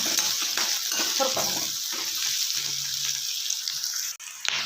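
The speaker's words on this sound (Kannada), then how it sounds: "ಚೆನ್ನಾಗಿ ಮಿಕ್ಸ್ ಮಾಡ್ಕೊಳ್ಳೋಣ ಸ್ವಲ್ಪ ಈರುಳ್ಳಿ ಕಲರ್ ಸ್ವಲ್ಪ ಚೇಂಜ್ ಆಗುತ್ತೆ" Onions stir-frying in a pan for a North Karnataka-style potato curry, a steady broad sizzle with scraping stirs throughout, close and fairly loud with no talk over it.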